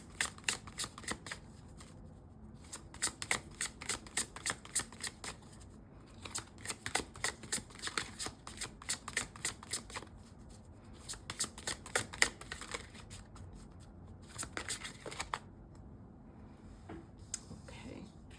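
A chakra-themed tarot deck being shuffled: rapid riffling card flicks in quick bursts with short pauses, close and fairly quiet, repeating for a long stretch.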